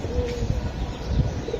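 Giribaz pigeons coo in soft, low repeated calls close by, over a steady background hum, with no talking.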